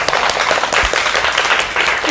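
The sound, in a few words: audience applause for the speaker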